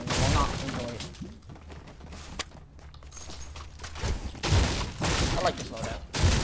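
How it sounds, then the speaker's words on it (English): Explosive blasts and gunfire from a Fortnite match, with an RPG rocket launcher in play, land in loud bursts at the start and again near the end, with quieter scuffling and footsteps in between. "fire this RPG at you, and you will not enjoy it."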